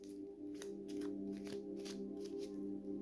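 A deck of tarot cards is shuffled and cut, producing soft repeated riffling flicks and papery slaps over a faint steady hum, quiet and close.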